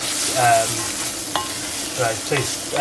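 Vegetables and smoked paprika fry in a pan with a steady loud sizzle, broken by a few clattering stirs and scrapes of a utensil against the pan.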